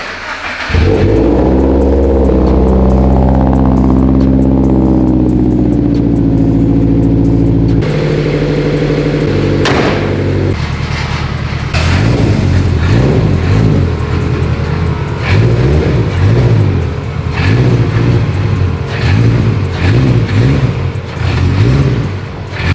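A car engine cranks and starts, roaring loudly at first, then settles before being revved repeatedly in rising and falling bursts, close by.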